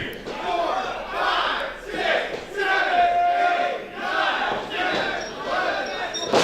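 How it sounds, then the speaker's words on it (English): A wrestling crowd at an indoor show chants in loud, rhythmic waves of massed voices, rising and falling steadily throughout without pause. "The crowd chanting one more time"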